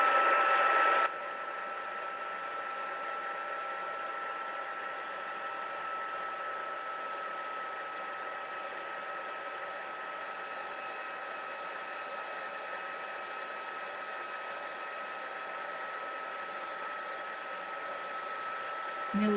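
Handheld heat tool blowing hot air during a scrapbooking craft session, a steady close whooshing hiss that runs without a break for nearly twenty seconds after a brief louder burst at the start.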